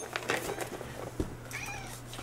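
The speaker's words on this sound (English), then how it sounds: "Cats are crying." Cats in a video game cry out in several short, overlapping meows with a few soft clicks and taps, heard close over a steady electronic hum.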